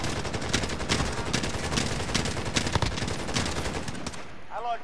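Dense gunfire rattles through a squad firefight in Warzone, rapid overlapping shots and bursts filling the whole stretch at close range, with a brief chirp near the end.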